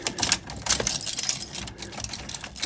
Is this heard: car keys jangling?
yes